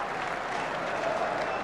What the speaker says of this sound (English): This crowd have gone absolutely wild.